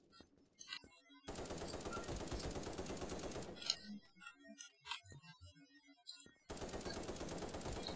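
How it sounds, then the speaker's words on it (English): Rapid automatic gunfire in the online shooter Krunker.io, long dense bursts that stop and restart, with scattered single shots and clicks between them, fairly close and loud. "Oh no, I'm getting shot."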